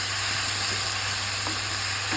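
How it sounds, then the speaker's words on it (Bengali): Plantain pieces frying in a pan with salt and turmeric, a steady close sizzle with faint stirring touches and a constant background hum. "কলাগুলো বেশ সুন্দর একটু নাড়াচাড়া করে একটু নুন হলুদ দিয়ে ভেজে নিচ্ছি"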